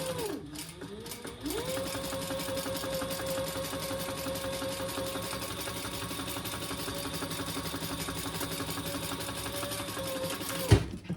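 Steady, continuous whir of a sewing machine top stitching fabric for a bag, running evenly for about ten seconds after a brief start, close and alone, ending with a small clunk.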